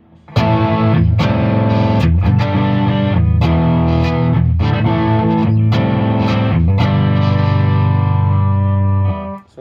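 Electric guitar with a P90 pickup played through a Maestro Ranger overdrive, loud and alone, with a run of strummed distorted chords ringing out before a final sustained chord.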